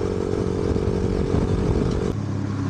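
A motorcycle engine revs loudly nearby, a buzzing, rattly drone that holds steady before dropping abruptly to a lower idle.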